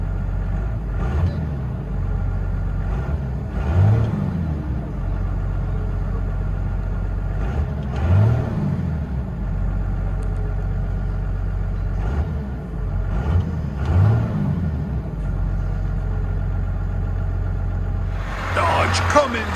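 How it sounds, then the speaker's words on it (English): A 1997 Dodge Ram with the 5.9L Cummins diesel and a Magnaflow exhaust with a 30-inch muffler and 3-inch tailpipe, heard from inside the cab as a steady low diesel rumble with periodic swells in engine note. "Dodge Cummins diesel. MAGNAFLOW 30-inch muffler, 3-inch tailpipe,"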